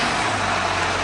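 A car engine idles steadily right after an oil change, a brief continuous mechanical hum close to the listener.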